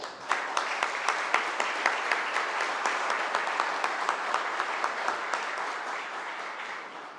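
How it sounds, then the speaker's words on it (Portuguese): Sustained round of applause from an audience at a formal electoral diploma ceremony in Santa Maria, a dense steady wash of many hands lasting throughout, with no talk over it. "Peço uma salva de palmas a eles."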